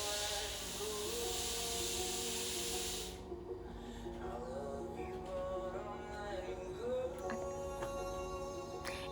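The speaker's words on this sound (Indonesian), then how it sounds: "itu juga bukan suara hujan, tapi itu suara hair dryer" A hair dryer blows with a loud, steady hiss for about three seconds, then cuts off abruptly, leaving quieter background sounds with faint tonal traces.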